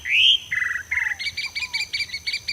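A sabiá do campo sings in open country, imitating another thrush: a bright rising whistle, then a steady series of short, chirping phrases repeated in even rhythm, clear and close, with faint high background tone.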